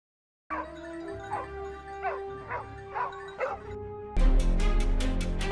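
Hunting dogs on a wild boar hunt bark and yip repeatedly in a steady series of sharp calls, then a louder burst of rapid barking crowds in near the end.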